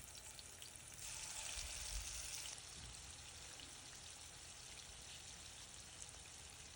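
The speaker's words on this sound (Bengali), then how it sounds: "এই তো গরম তেলে চিকেন ভাজা হচ্ছে।" Chicken frying in hot oil in a small home kitchen, a faint steady sizzle with a louder hissing surge for a couple of seconds before settling back.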